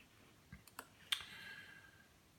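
A few soft, sharp computer mouse clicks, quiet and close, with a brighter final click in a near-silent room.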